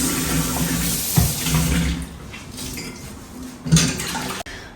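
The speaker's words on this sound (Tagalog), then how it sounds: "unahin ko na ang paghuhugas kasi girl, hindi pa ako naghuhugas" Dishes are washed in a kitchen sink in an apartment in Barcelona, with running tap water and the clatter of plates and cutlery. The water hisses steadily, with a few sharp clanks, before the water stops near the end.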